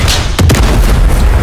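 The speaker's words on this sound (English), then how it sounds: "Set charges and confirm detonation." Set charges detonate in Call of Duty Modern Warfare 3 during the Reactor mission, a loud close boom with a sharp double burst followed by a rumbling, noisy tail.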